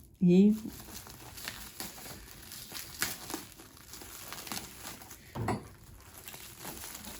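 Double-layer plastic packaging of a boxed model airplane crinkles and rustles close up, with a sharp burst at the start, then softer scattered crackles and another crinkle near the end, with a voice under it.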